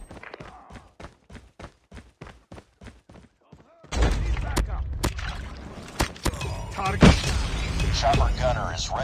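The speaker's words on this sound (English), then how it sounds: "Sentry gun deployed." Video game sentry gun opening fire in a dense burst of loud, continuous gunfire and impacts, preceded by a few seconds of sharp rhythmic clicks or taps.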